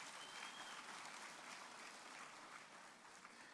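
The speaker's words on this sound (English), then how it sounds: "Let's give him another round of applause" Steady applause from an audience at the 2024 SADC Summit Public Lecture, filling the hall at moderate distance and continuing evenly without speech throughout.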